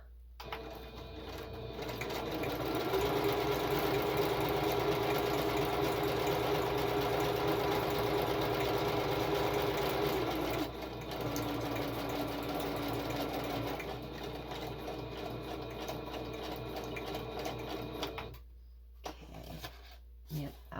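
A sewing machine stitches through a mixed media journal card, a steady whirring run for most of the clip with a brief pause partway and a few short bursts near the end.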